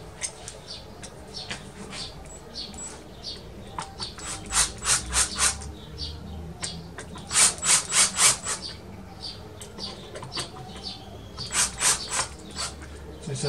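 Cordless drill driving screws into an aluminium window frame, several short bursts of whirring and ratcheting in clusters with pauses between them, close and fairly loud over low background noise.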